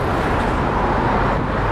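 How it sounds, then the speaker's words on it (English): Loud, steady street traffic rumbles close by outside a Korean restaurant, a continuous broadband roar of passing cars without any break. "Cars too loud."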